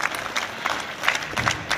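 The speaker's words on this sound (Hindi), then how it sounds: "मैं जोरदार तालियों से उनका भी इस्तकबाल करता हूं।" Audience applause at a Government Boys Model Higher Secondary School annual day celebration in Rajouri, welcoming a guest: brief, steady clapping from a crowd, fairly close and full.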